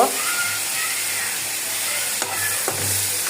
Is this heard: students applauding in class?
no